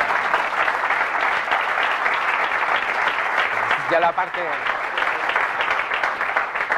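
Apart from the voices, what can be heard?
audience applauding a talk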